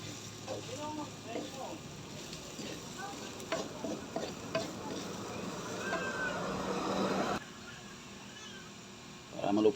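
Cassava leaves being stirred in a cooking pot, with chili and taro roots added before coconut milk goes in, give soft scraping and sizzling sounds while a person talks over them throughout.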